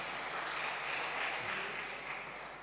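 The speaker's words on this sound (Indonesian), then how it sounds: "Tepuk tangan dong buat Pak Jenderal." Dense, steady applause from an audience honoring a retired general at an installation ceremony for BKSG-LK Indonesia in Banten province. The clapping is fairly faint and sustained, with no talk, fading slightly toward the end.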